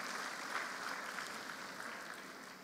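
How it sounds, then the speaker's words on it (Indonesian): A large audience at an Indonesian agriculture ministry plantation event claps together in steady, continuous applause, sounding faint and distant. "Kita beri aplaus dulu pada sawitnya."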